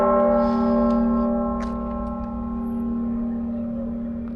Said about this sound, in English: Church bells going off this morning.